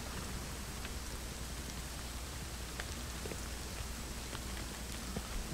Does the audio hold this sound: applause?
no